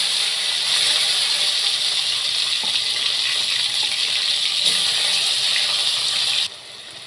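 Tomato tipped into hot oil already frying a bay leaf, dried red chillies and whole cumin, giving a steady loud sizzling hiss that cuts off abruptly near the end.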